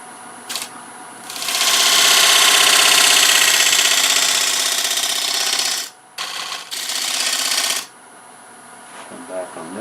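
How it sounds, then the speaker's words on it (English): A detail spindle gouge cuts a bead on a wood lathe, a loud continuous scraping hiss over the motor hum, broken by a brief pause, then a second shorter cut. "I'm going to use my detail spindle gouge to define that bead"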